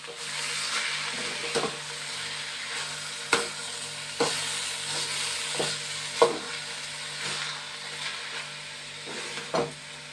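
Food frying in a pan gives a steady close sizzle, broken every second or so by sharp knocks and scrapes as a utensil stirs it, with no talk.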